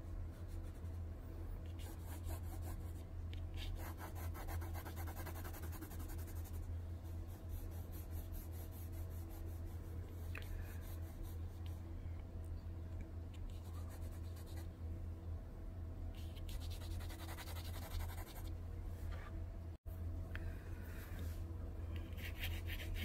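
Pencil drawing lines on paper in an art class, pressing harder where shapes meet: steady soft scratching strokes, close and faint, over a constant low background hum.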